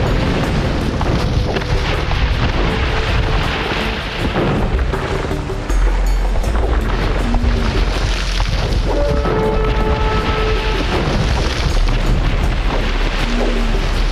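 Cannon galleons firing in a naval battle in Age of Empires 2, with loud, dense booms and explosions rolling continuously throughout, layered into a constant heavy roar with no talk.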